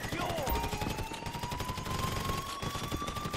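Dense, rapid gunfire crackles in a GTA V Online casino heist shootout, steady bursts layered over one another at close range with game voices shouting through it.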